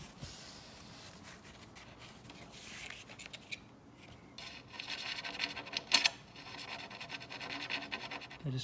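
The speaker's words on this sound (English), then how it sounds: "I just scratched the glass now." Close, faint scraping and rubbing on the glass of a Honda CRX window during a repair, irregular scratchy strokes with a few sharper louder scrapes near the middle, no talking.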